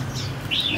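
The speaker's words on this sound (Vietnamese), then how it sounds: "Cái này là chim lửa rồi nha các bạn." A red-whiskered bulbul gives two short, high chirps, the second brighter and slightly longer, heard at moderate distance over a low indoor hum with no talking.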